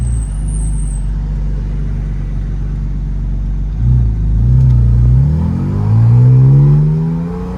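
Porsche Boxster Spyder RS (982) engine heard from inside the cabin, a steady low drone that swells as the car accelerates, its rising tone climbing through the last few seconds, loud and close.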